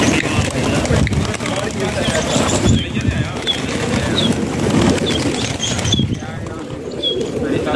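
Fancy pigeons in a Multan loft coo softly amid scattered chirps and a busy, continuous background, while someone talks over them nearly throughout.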